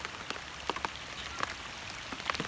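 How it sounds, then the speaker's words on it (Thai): Rain falls steadily outdoors at a fishing spot, a soft continuous patter with a few sharper drops standing out, fairly faint and with no one talking. "ฝนมาแล้ว ดูครับโอ้โห ตกแล้วอ่ะ"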